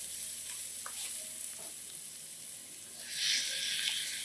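Ground beef sizzles in a pan with a salted onion and shallot mixture, a steady hiss of frying with a few soft stirring scrapes and a brief louder flare near the end. No one talks.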